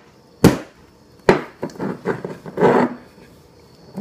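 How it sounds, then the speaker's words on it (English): A candle lid is banged on the floor in a few sharp knocks: two hard impacts, then a quicker cluster of lighter thuds, with no talking. "Bang your lid on the floor."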